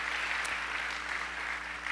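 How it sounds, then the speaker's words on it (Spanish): A church congregation gives a short burst of even, continuous clapping for the pastor's wife, a steady wash of many hands over a low electrical hum. "Aplauso celestial, por favor,"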